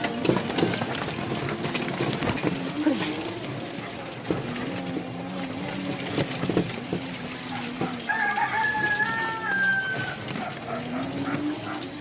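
A rooster crows loudly with chickens clucking around it, a busy outdoor farmyard with steady background noise throughout.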